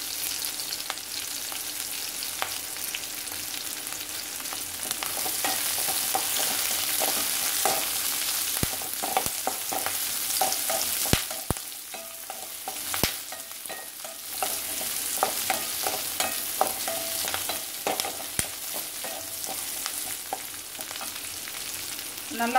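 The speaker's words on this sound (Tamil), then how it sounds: "மீன் குழம்புக்காக வெங்காயம் கட் பண்ணி வச்சுருந்தோம் பார்த்தீங்களா, அதை போட்டுடலாம். வதங்கட்டும்." Chopped onions and a couple of curry leaves fry in hot oil for a fish curry, a steady close sizzle crackling throughout with occasional scrapes and clinks of a stirring spoon, with no talking.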